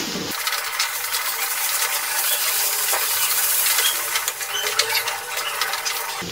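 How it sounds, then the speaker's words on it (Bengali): Ghee and garam masala are stirred into vegetarian thor ghonto, a banana-stem dish made with Gobindobhog rice, in a pan: light scraping and clinking of a utensil over a faint sizzle, with a few sharper taps near the end. "ঘি গরম মশলাটা নাড়াচাড়া করে নিচ্ছি।"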